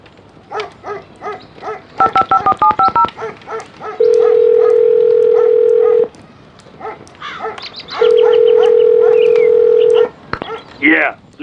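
Telephone on a desk in the CSI: Crime Scene Investigation PC game: quick redial tones beep in a rapid run, then a steady dial tone rings out twice in long even stretches, with voices talking between them.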